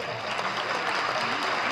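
Audience at a Republic Day mushaira clapping together in steady, dense applause that holds at full level from start to finish.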